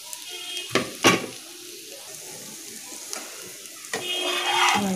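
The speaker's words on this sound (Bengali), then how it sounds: "এবার ভালো করে আমরা রাইসটার মধ্যে সমস্ত ভাজা মশলাগুলো মাখিয়ে দেব।" Leftover rice is stir-fried with fried spices in a pan, giving a soft sizzle with a few sharp knocks and scrapes of a utensil against the pan and a brief swell of frying near the end.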